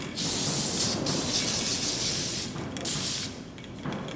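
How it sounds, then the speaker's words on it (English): Hairspray hisses from a nearly empty can onto hair in two long spray bursts with a short break between, close and fairly loud, with no talking. "So I'm just going to spray a little bit of that in."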